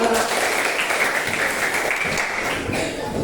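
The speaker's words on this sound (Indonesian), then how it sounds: "Tepuk tangan untuk kita semua." Classroom applause from a group of elementary school pupils, steady dense clapping that fills the whole stretch at close range, with a voice or two mixed in.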